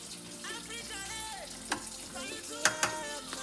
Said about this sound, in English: I'm still going to let it fry for a few minutes because I really want it dry for my gari